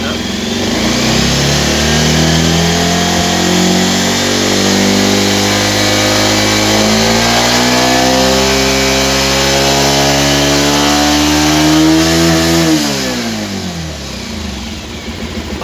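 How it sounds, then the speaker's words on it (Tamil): A Bajaj Pulsar BS6 motorcycle engine runs loud and close, revving up in a long rising whine before dropping back toward idle near the end. "இப்போ வந்து நம்ம என்ன பண்ணுறோம்னா வண்டி வந்து ஸ்டார்ட் பண்ணுறோம்"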